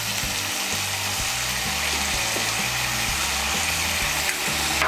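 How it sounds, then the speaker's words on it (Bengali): Tomato paste masala fries in oil with salt, giving a dense, steady sizzle over a low droning hum, loud and close throughout, with no speech. "নুনটাকে ভালো করে মিশিয়ে নিয়ে আমি মশলাটাকে ভালো করে কষিয়ে নেব"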